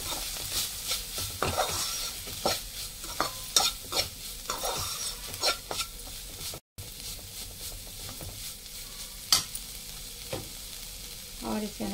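Spices and turmeric stirred in a frying pan with a utensil, giving repeated scraping strokes over a low steady sizzle, close and fairly quiet, with no talking.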